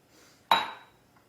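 Chopped turkey for a turkey cranberry wreath is tipped into a mixing bowl, giving a single bright clink against the bowl that rings briefly and fades in quiet surroundings.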